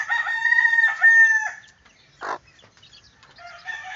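A young Moonwalker rooster crows in a clear, near call lasting about a second and a half, followed by a short sharp cluck and another brief crow at the end, with quiet pauses between.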